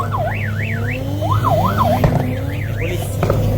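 A police car siren wails in repeated rising and falling sweeps at a Honda car festival in Canada, carrying over a steady low engine hum from a moderate distance.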